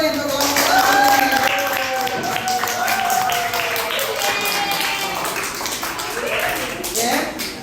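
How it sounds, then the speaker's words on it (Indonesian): A classroom group claps for group Auri, scattered uneven hand claps running under a talking voice throughout. "Tepuk tangan dulu nih untuk kelompok Auri."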